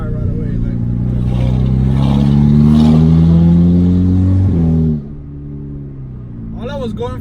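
A car engine with a newly installed exhaust downpipe and no tune revs up in one long, loud, rising pull, then drops back to a rough idle; a voice speaks briefly at the end.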